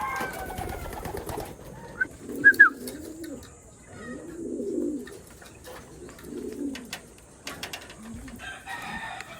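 Pigeons coo in a series of low, rolling, bubbling calls spaced a second or two apart during recall training for free flight, close and fairly soft, with a few brighter chirps and clicks between them and no talk.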